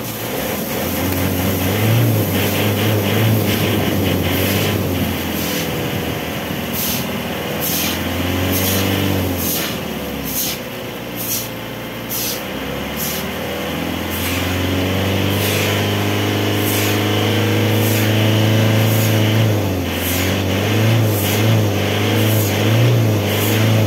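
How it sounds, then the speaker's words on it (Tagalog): An Isuzu Crosswind engine runs continuously after its muffler pipe has been cleaned, a loud, steady drone whose revs swell and ease several times with no talking over it. "Start ko ulit itong makina."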